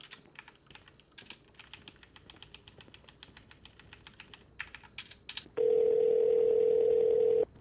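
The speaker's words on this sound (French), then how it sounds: "Moi j'appelle Yazid." A phone call placed in a GTA RP game: a soft clatter of keys, then a loud steady dial tone droning alone for about two seconds at the end.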